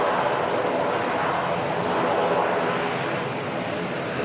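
Qantas flight 144 airliner lining up for takeoff at Auckland Airport, a steady broad jet engine roar at a distance, continuous and even.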